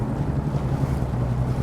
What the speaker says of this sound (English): It's really windy, really choppy.